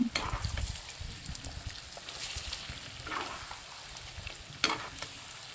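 Pork frying with ginger and garlic in a pan without extra oil for an Assamese dish, giving a steady low sizzle with occasional stirring scrapes and one sharper clatter near the end.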